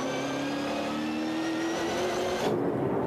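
On board a V8 SuperTourer race car at Pukekohe, a steady loud engine drone holds one pitch and rises slowly under load, then drops abruptly near the end as the engine note changes, with no voices.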